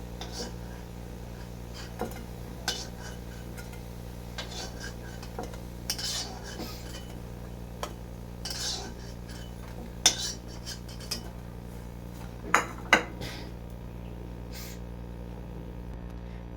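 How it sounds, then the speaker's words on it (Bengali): Metal utensil clinks and scrapes against a pan as fried bitter gourd fritters are lifted out one by one, with the gas switched off; sparse, separate taps and clatters over a low steady background hum, growing a little louder near the end. "ভাজাগুলো এবার আমি নামিয়ে নেবো এক এক করে"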